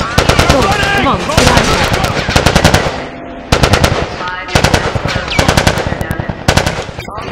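Rapid automatic gunfire and single shots from The Last of Us, set around a Capitol Building, burst loud and dense throughout with brief pauses, mixed with shouted voices and game effects.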